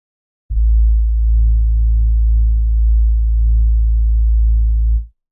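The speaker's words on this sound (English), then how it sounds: "and we added a sub bass." A single sustained sub bass note from an FL Studio trapsoul beat, a deep, clean, loud low tone that starts abruptly, holds steady for about four and a half seconds and then stops, alone with nothing else.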